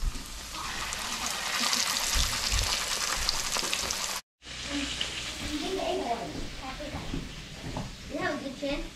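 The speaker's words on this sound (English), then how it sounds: "Pop it in the frying oil." Battered, buttermilk-soaked turkey breast cut thin and pounded, sizzling in frying oil with a steady crackling hiss, briefly cut off, then continuing while people talk over it.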